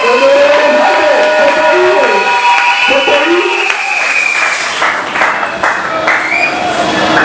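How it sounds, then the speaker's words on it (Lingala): Church congregation clapping during a Sunday service, dense rhythmic clapping with cheering under a loud singing or shouting voice, crowd noise filling the space. "Kitoko, endo kobeta maboko pale na kolo"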